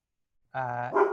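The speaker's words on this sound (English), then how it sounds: "that's my dog" A dog barks close by in one sustained, harmonic woof that swells louder near its end, with no talking over it.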